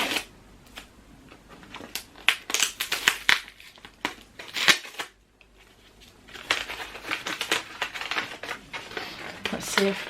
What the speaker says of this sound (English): Let's see if I can unwrap this in such a way that I don't catch a glimpse of the book until it's open on camera.